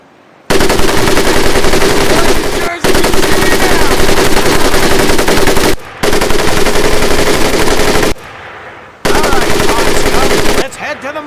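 Heavy machine gun in Medal of Honor: Pacific Assault roars in long, loud sustained bursts, broken by a few short pauses, with game voices faintly underneath.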